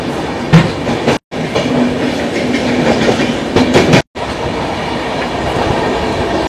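The Sealdah–Jammu Tawi Humsafar Express running at speed, heard from inside as a loud, steady rumble with rhythmic wheel clatter and two brief dropouts.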